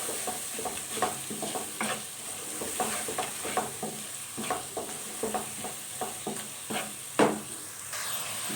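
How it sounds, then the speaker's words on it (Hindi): Garlic, ginger and spice masala fry in a pan while a spoon stirs them, each scraping stroke landing in a steady rhythm over a constant close sizzle. "अब हम इसमें तमाम मसाला जार जो है वो ऐड कर देंगे, और अच्छी तरह से मिक्स कर लेंगे।"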